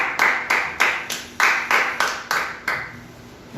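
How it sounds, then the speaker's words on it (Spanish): A church congregation gives a round of applause to God at a Spanish-language service, a short burst of rhythmic, unison clapping with about ten evenly spaced claps, fairly loud and close. "Vamos a darle un fuerte aplauso a Dios."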